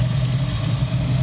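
A Ford V8 302 engine left unstarted for about five months idles in a Hensen M30 fitted with an FMX automatic gearbox, giving a loud, steady, deep rumble close up with no talk over it.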